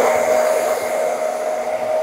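A hair dryer blows with a steady, close whooshing roar and a constant whine, holding even throughout.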